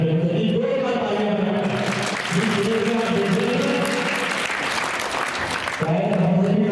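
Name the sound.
audience applause at school event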